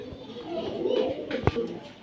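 Racer pigeons coo in low, soft rolls, fairly faint and partly under nearby voices and background chatter, with a sharp click near the end.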